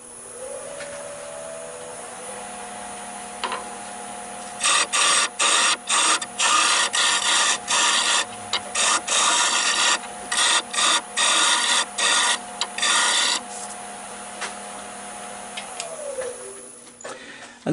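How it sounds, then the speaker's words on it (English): Dry sanding of a wood turning spinning on a lathe at 150 grit, a steady machine whine with a long run of rapid, evenly pulsed rasping bursts through the middle, loud and close with no talk. "I've just sanded this to 150 grit dry"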